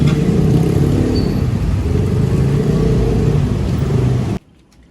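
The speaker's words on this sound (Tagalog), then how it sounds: "Sasakay lang kami ng jeep." Steady, loud engine rumble and road noise from inside a moving jeepney, a continuous drone with no talk that cuts off abruptly near the end.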